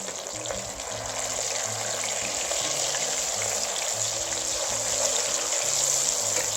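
Pieces of rohu fish for a spicy Lahori fish fry sizzle steadily in hot oil, a loud, continuous frying hiss with faint music underneath.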